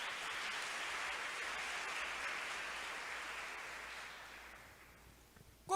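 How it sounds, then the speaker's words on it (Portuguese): A church congregation applauding during a sermon, broad sustained clapping that stays level for a few seconds, then thins out and tapers, with a short sound cutting in at the very end. "Então aplauda o Senhor"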